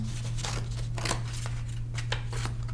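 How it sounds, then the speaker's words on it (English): Scissors snip through paper while a paper marble run is being made, giving a series of short, crisp cuts over a constant low electrical hum. "take your scissors, and you're going to cut right to that center circle"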